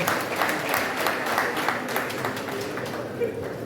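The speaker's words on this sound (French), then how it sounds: "Encore une fois, applaudissez pour elle" Audience applause at an international sports forum, a steady wash of clapping lasting the whole stretch at even loudness, with voices mixed into the crowd noise.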